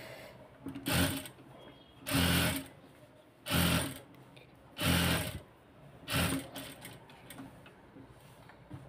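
Sewing machine top-stitching piping on a kameez in five short whirring bursts spaced about a second apart, close and mechanical, with quiet handling between runs.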